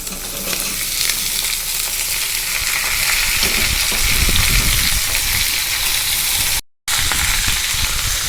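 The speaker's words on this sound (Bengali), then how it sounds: "আলু কুমড়ো দুটোকেই আমি এখানে একসঙ্গে ভেজে নেবো" Raw potato, pumpkin and chickpeas fry together in a little oil, a loud dense hiss and crackle filling the whole stretch without pause apart from one brief cut, close up and with no speech.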